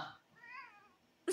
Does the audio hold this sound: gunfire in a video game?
no